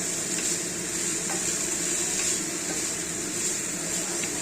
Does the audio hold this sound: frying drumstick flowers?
yes